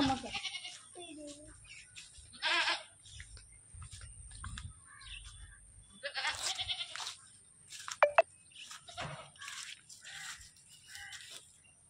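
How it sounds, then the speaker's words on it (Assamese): Goat tied up ahead of an Eid sacrifice, bleating in several short, scattered calls at close range, interleaved with nearby talking and faint bird chirps in a quiet home setting. "আমি ছাগলী আনিছোঁ কুৰবানী দিবলৈ কাৰণে। এই ইয়াত বান্ধি থোৱা আছে।"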